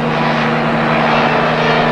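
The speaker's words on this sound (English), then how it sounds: "The Mojave can move with the fastest helicopters, driven by 2 engines outside the fuselage." A twin-engine Mojave helicopter with engines mounted outside the fuselage flies past, a loud, steady engine drone with a low rotor throb filling the whole short stretch.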